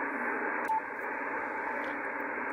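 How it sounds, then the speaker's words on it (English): Steady broadband hiss and static from a radio receiver tuned across the 80 meter amateur band through a Yaesu mu-tuner preselector, continuous and even with one brief tone blip near the start. "You see all that noise across the 80 meter band there?"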